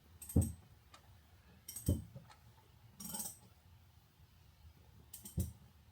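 A Honda FL5 Civic Type R engine's crankshaft is turned by hand, producing a few separate metallic clicks and clunks spaced about a second apart, close and fairly quiet, with near silence between them.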